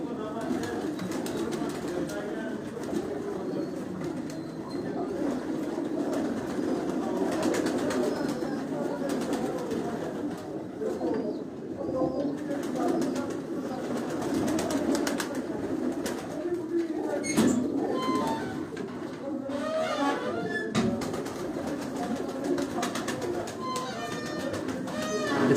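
A large flock of around seventy pairs of pigeons keeps up continuous overlapping cooing close by, while someone talks over it throughout.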